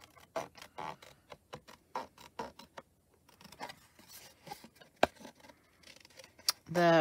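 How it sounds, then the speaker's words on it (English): Scissors snip around a paper craft piece of a pup in a cup, producing a rapid series of close, crisp cuts at a steady rhythm, followed by a few scattered snips and some handling noise. "now I'm just gonna cut him out"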